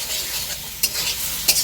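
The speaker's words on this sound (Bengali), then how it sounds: "এই যে কষাচ্ছি, ভালো করে কষিয়ে দিই।" Goat meat with tomato and potato is sautéed in a pan, giving a loud, close, hissing sizzle with two sharp scraping stirs of the spoon.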